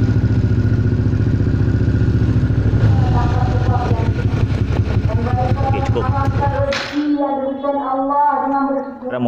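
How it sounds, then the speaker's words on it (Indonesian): A copy-original NSR motorcycle runs with its two-stroke engine steady and loud after a carburetor overflow repair, with a rhythmic throb that shifts into a rougher, uneven idle near the end. "Sekarang motor dah hidup."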